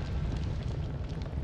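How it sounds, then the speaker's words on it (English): The player character in the game Noita bursts into flames, giving a dense, steady roaring crackle of fire with a heavy low rumble that fills the whole moment at constant loudness, with no talking. "I'm gonna light myself on fire."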